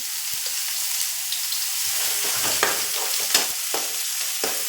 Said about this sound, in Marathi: त्यामध्ये जिरं घालूया, कांदा घालूया चिरलेला। कांदा थोडासा लालसर करून घ्यायचा आहे।